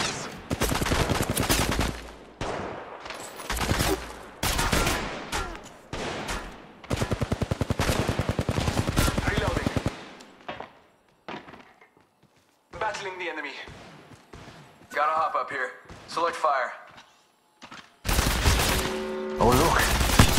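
Automatic gunfire from an attacking squad in Apex Legends Mobile, rapid loud bursts that start and stop repeatedly, with a voice talking through the quieter gaps.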